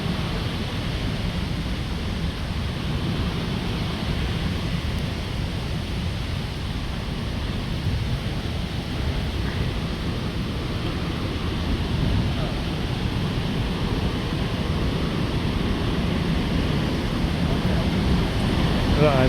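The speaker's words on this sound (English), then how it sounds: "huge amount of water just dropping straight into the ditch there" Victoria Falls in Zambia, a huge volume of water plunging into the gorge, gives a steady, unbroken broadband roar that holds at the same level throughout.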